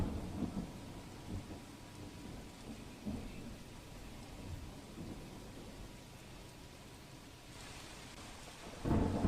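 Steady heavy monsoon rain in Vadodara, Gujarat, pours down in a dense, continuous hiss, with low rumbles of thunder underneath and no voices.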